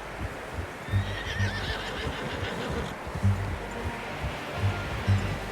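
A horse neighs near the start in Red Dead Redemption 2, while heavy hoofbeats thud in a loose rhythm under a constant wash of outdoor noise.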